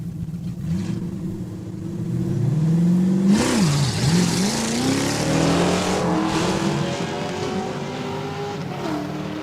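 An 86 Mustang and a Superior Diesel Blazer launch in a drag race at Saskatchewan International Raceway, engines roaring up in rising, shifting revs before a sustained loud drone fades slightly toward the end.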